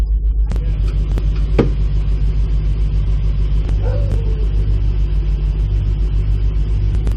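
An air suspension compressor on a Dodge Challenger Hellcat Redeye runs while building pressure toward 150 psi, a loud, steady pulsing mechanical drone with a few faint clicks and knocks and no talking.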